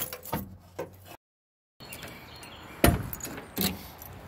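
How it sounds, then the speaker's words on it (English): Keys jangle in short metallic bursts while being dug out from under a bag near a tire iron, broken by a brief dead silence, then sharper clinks and rustles close by, with no talking. "That sounds like keys."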